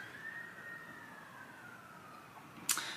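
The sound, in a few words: ambulance sirens driving by on nearby freeway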